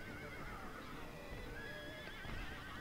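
Horses neigh in a Total War battle, with whinnies over a busy, low battlefield din and no voices.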